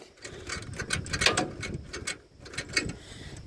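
A worn starter cranks an old Woodchuck WC17 wood chipper that has sat unused for years, producing a rapid, uneven mechanical clatter of grinding, ratcheting bursts up close for a few seconds.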